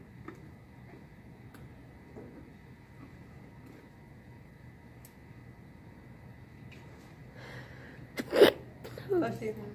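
A single sharp sneeze bursts out near the end, loud and close in a dental operatory where an amalgam filling is being prepared, with a second smaller burst just after over a quiet room hum.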